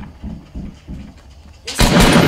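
Gunfire in the video game Fortnite during a duos match, a dense burst of loud shots erupting near the end after a stretch of quieter game sounds and faint voices.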